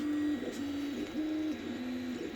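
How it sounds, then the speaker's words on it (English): An Anycubic 3D printer running a spiral print with white PLA filament, steady stepper-motor whine stepping between sustained tones in a repeating pattern, close and even, with no talk. "But this is about this 3D printer, this video."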